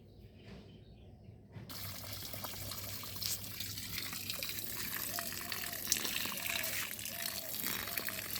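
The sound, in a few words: watering a citrus plant's base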